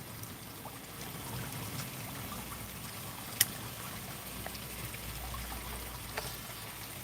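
Water trickles steadily into a garden pond outdoors, a soft continuous splashing at moderate distance with one brief sharp tick partway through and no voices.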